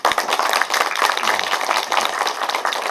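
Residents at a Korean city mayor's New Year town hall meeting applaud, a dense, lively round of clapping from a room full of people, loud and continuous throughout.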